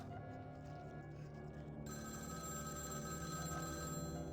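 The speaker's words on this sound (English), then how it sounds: "Phone is ringing." A telephone rings steadily in the game Vampire: The Masquerade - Bloodlines, its repeated electronic tone sounding over a low, droning ambient background with no talking.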